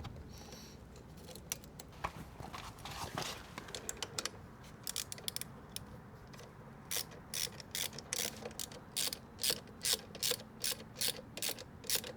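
A hand ratchet clicks rapidly while tightening a bolt on a Honda CB125F motorcycle. The sound starts with scattered clicks and settles into bursts of fast, regular pawl ticking, close and clear, with no speech.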